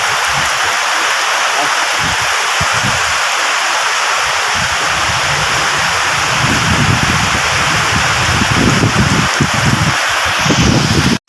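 Heavy rainy-season downpour in Pampanga, a loud dense continuous roar of rain close by with low rumbling gusts, steady throughout with no clear speech.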